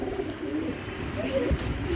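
A domestic pigeon coos softly a couple of times in a loft, close but faint, against a quiet background.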